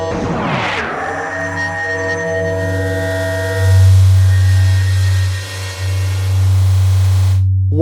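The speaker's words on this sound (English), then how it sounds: "Oderoy, ostensibly a like drone oscillator." A modular synthesizer drone oscillator holds a steady, buzzy low tone rich in harmonics, swelling in loudness midway after a brief noisy sweep at the start, with no talking.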